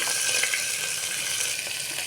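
Green chillies, curry leaves and onions frying in hot tempering oil for a tomato meal maker curry, a steady close crackling sizzle with no voices.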